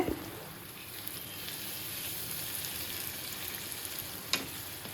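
Spices and masala sauté in a pan for a festive shahi roast, a steady close sizzle running throughout with an occasional sharp clink of the spoon near the end.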